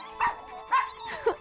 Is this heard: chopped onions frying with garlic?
no